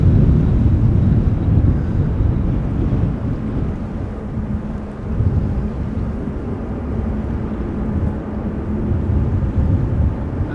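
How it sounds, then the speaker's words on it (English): A low, steady rumble of an airplane under tow at Amsterdam Schiphol Airport on a breezy post-storm day, with heavy wind buffeting the microphone and no voices. "We're getting another airplane being towed."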